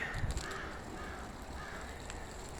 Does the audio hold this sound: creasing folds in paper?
no